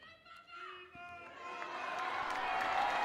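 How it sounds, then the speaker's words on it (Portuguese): Crowds of faithful gathered for the Angelus with the Pope break into applause, beginning faintly under fading voices and swelling into a broad, distant wash of clapping and cheering. "O aplauso dos fiéis"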